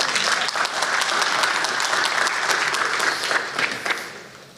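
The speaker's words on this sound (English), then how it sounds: "well, you can clap, I guess" An audience applauds at the close of a talk at an AI symposium. Steady, dense clapping fills the room throughout and tapers slightly at the end.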